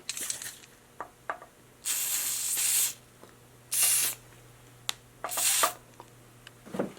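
T9 light lubricant sprayed onto Chris King headset bearings: three close hissing aerosol bursts of about a second each, separated by small clicks and handling taps over a faint steady hum, with no voices.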